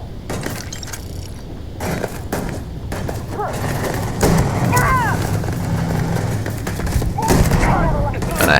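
Coachman shotgun firing in the video game Starfield: several loud, sharp blasts spaced a few seconds apart over continuous game ambience, with a voice talking throughout.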